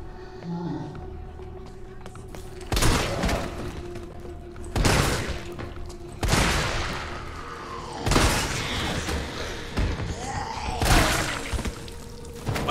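Shotgun blasts in Resident Evil 3 Remake, five loud, close, booming shots spaced a couple of seconds apart, each with a sharp crack and lingering tail over low game ambience.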